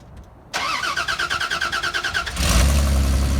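A small Honda pickup truck engine cranks with rapid rhythmic chugs for about two seconds, then catches and settles into a loud, steady running rumble close by.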